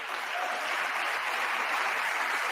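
Applause fills the House chamber during an address by the new Speaker of the House, a steady broadband wash of many hands clapping at an even level for a few seconds, with no talk over it.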